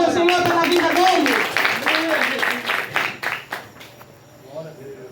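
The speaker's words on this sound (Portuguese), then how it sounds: "Dê um aplauso ao Senhor pela vida dele" A revival church congregation applauds in a loud burst of clapping overlaid by voices calling out, tapering off into scattered claps and talk.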